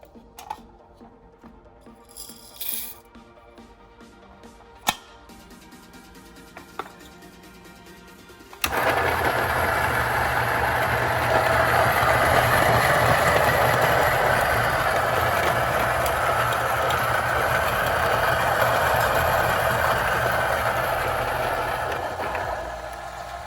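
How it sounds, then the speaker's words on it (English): A Breville Barista Express grinder grinds coffee beans: a few faint clicks and taps, then a sudden loud, steady whirring grind that holds for about fifteen seconds before starting to tail off. "Next, we're going to put the coffee into the grinder."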